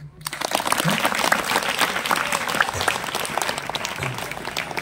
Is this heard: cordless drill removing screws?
no